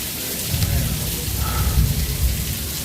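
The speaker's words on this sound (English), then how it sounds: "We can listen to the rain in Japan." Steady rain falls at the Japan pavilion in Epcot, a continuous broadband hiss with low rumble, moderately loud throughout and without clear individual drops.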